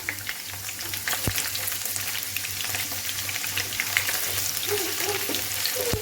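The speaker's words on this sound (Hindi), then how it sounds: "यहाँ पे ग्रीन चिली भी और गार्लिक जो है वो मैंने इसको फ्राई कर लिया प्याज में" Chopped garlic and green chili fry with onions in a pan, giving a steady, close sizzle and crackle with occasional stirring scrapes and no talking.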